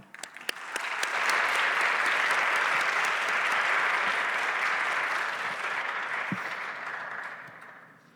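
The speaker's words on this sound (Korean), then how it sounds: "이제 김영동 목사님 나오실 때 동안의 박수로 환영하겠습니다" A church congregation at a Sunday young-adult worship service applauds to welcome a pastor coming forward, a dense, steady wash of many hands that swells quickly, holds loud and even, then tapers off toward the end.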